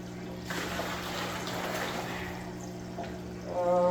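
Water poured from a bucket into a fish tank for African cichlids splashes and gurgles at moderate level for several seconds, a continuous close pour over a faint steady hum, with a brief louder burst near the end.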